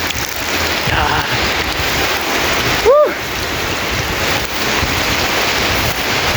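Heavy rain pours steadily outdoors on a university campus, a dense, even hiss that fills the whole clip, with a brief whooshing pass of a car in the middle.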